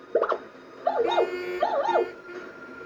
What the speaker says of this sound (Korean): 누렁이는 급히 할아버지를 향해 짖기 시작했어요